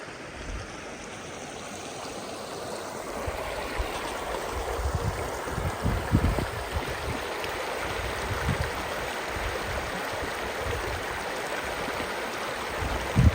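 Creek running beside a lunch stop on a high-mountain backcountry trail, a steady broadband rush of flowing water with soft gurgles, close and continuous throughout, no talking.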